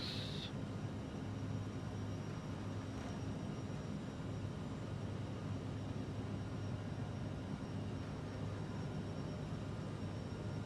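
Jet airliner engines in a flight simulator build to takeoff thrust, giving a steady, broad roar that holds level throughout, with a brief brighter whine at the start.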